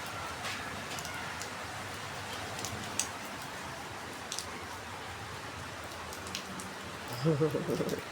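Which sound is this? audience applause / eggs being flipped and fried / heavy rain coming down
heavy rain coming down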